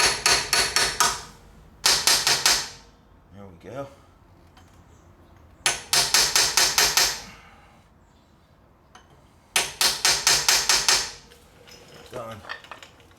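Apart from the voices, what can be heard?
hammer tapping a seal driver into a Jeep Dana 35 differential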